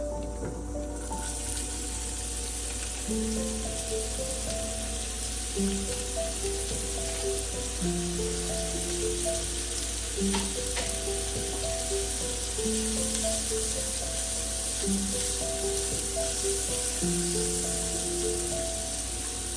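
Onions sizzle steadily in hot oil tempered with cumin and asafoetida, a continuous close frying hiss with a faint hum running under it throughout.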